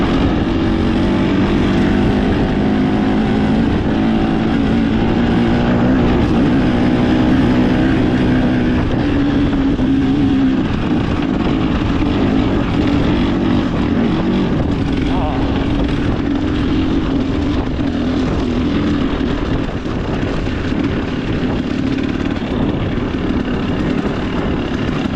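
A KTM XC-W 300 Champion two-stroke dirt bike engine drones steadily while riding, its pitch rising and easing over a long stretch, with heavy wind buffeting on the microphone throughout.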